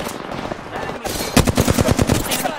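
Rapid automatic gunfire from Apex Legends gameplay, a loud burst of close shots in quick succession over a steady game background, with a brief earlier stretch of ambient game noise and faint voices.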